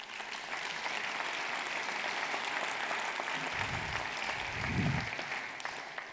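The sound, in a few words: audience applause thanking agents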